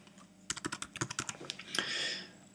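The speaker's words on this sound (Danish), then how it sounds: "nu skriver vi bare den her gratis fragt" Typing on a computer keyboard while entering a free-shipping coupon in an online shop backend. About a dozen quick, close keystrokes in an uneven burst, ending in a longer clattering stroke, with no talk over them.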